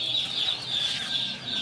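Chickens on a rooftop poultry farm cluck and chatter in a dense, continuous flock murmur, with high-pitched peeping notes repeating steadily and no voices over them.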